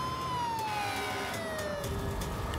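A fire engine siren wails in a steady descending tone as the truck speeds toward a farm fire, loud and close with road noise underneath.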